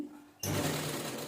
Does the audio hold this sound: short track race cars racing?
no